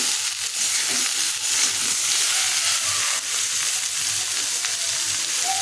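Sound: stirring and frying spices with potato and pointed gourd

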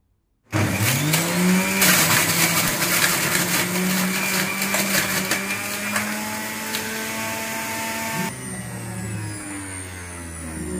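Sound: Philips HL7705 juicer juicing carrot pieces

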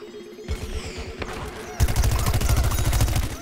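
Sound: gunfire in video game Plants vs. Zombies Garden Warfare

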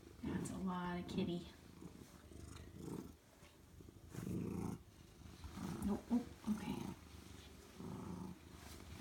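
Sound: cat purring loudly

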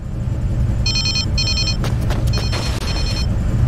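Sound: phone ringing in the video game Kamen Rider: Memory of Heroez

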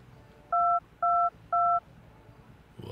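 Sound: new mobile phone keypad tones

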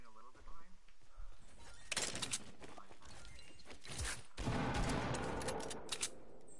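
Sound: pistol gunshot in a video game

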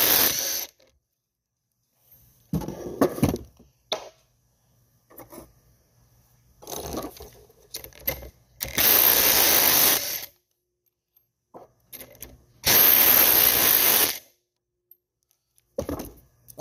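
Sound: impact wrench with 24 mm socket loosening pump check valves

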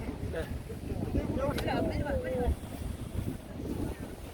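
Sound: Seogwipo harbor on Jeju Island, wind and boats

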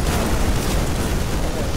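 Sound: grenade explosion in video game

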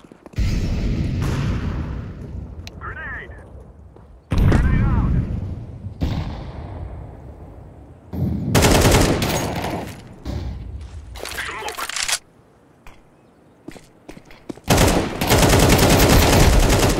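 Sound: grenade and gunfire in video game Counter-Strike 2

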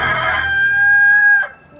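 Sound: rooster crowing

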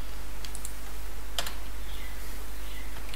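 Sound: typing code on a computer keyboard

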